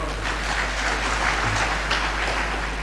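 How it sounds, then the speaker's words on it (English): An audience at an engineers registration board anniversary session gives a presenter another round of applause: a continuous, dense wash of clapping over a steady low electrical hum, with no individual voices. "Can we give him another round of applause?"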